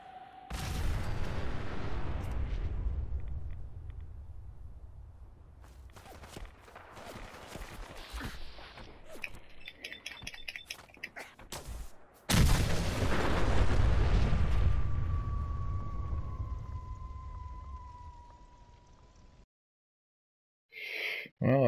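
A mini nuke weapon fired in Fallout 4 sets off heavy explosions, with a deep rumbling blast fading out, a sharp second boom midway that rolls on and slowly decays, then a brief silence and a final burst.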